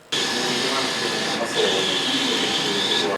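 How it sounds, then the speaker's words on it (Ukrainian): Sewing machines hum and whir steadily at a flag factory in Chernivtsi, where Ukrainian flags are stitched, a continuous near mechanical drone with a brief dip midway. "На Чернівецькому підприємстві шумлять швейні машинки."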